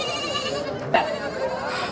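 A goat bleats nearby at a livestock market, a wavering nasal cry over a low background murmur.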